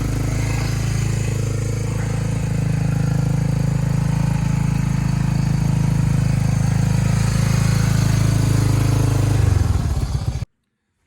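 A Honda 300 Fourtrax ATV engine idles loudly and steadily up close with a low rumbling chug, then cuts off abruptly near the end, leaving silence.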